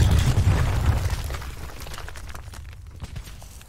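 A cluster grenade goes off in Black Ops 4 during a Search and Destroy match: a loud, broad blast that rolls and thins out over a few seconds into a quieter rumbling tail.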